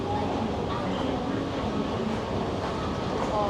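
A loud, continuous rumble of a train in an underground metro station in Bangkok, Thailand, with a steady roar and no clear breaks.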